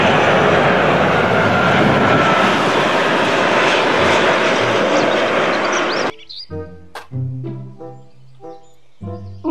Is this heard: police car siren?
no